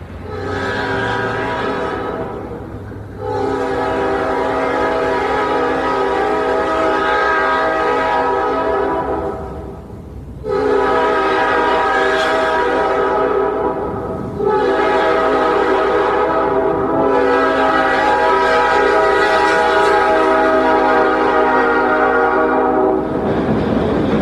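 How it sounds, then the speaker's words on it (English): A diesel locomotive horn, also called a whistle, blares in long, loud chords, sounding four times with brief gaps between blasts. "This is the whistle of the diesel locomotive."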